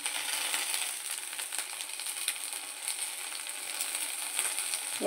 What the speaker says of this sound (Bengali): আবারও ভালোভাবে ভাজবো এটাকে, আর ঢাকা দেবো না, এইভাবে ভাজবো